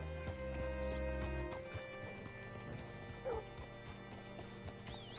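Horse hooves clip-clop in a steady rhythm through Red Dead Redemption 2, close and moderately quiet, under a low ambient hum with a brief bark-like yelp in the background.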